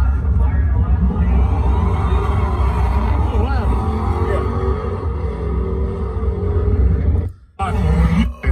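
A Dodge Demon drag car runs at a drag strip, its engine roaring loudly from start to finish, with a brief drop near the end before the roar returns; voices and crowd noise sit underneath.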